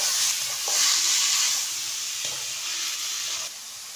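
Chopped banana flower and crushed garlic sizzle steadily in a hot pan, with a soft scrape and stir now and then, the frying hiss loud and close throughout.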